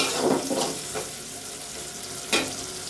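Malabar spinach frying in a pan, a soft continuous sizzle with a couple of brief louder bursts as it is stirred.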